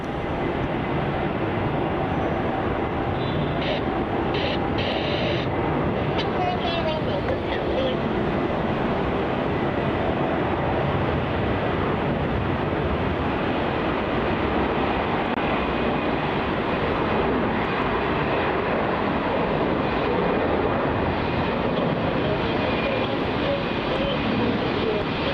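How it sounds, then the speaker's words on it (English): A Vietjet airliner departs Melbourne Airport, its broad jet roar steady and fairly distant across the whole stretch, with a voice talking faintly beneath it. "There it is, departing off to the moon, climbing at a 90-degree angle."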